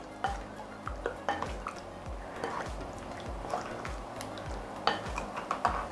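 A spoon works through a marinade of salt, oil and spices in a bowl, giving close, repeated scraping clinks and wet swishes at a steady stirring pace, with no speech.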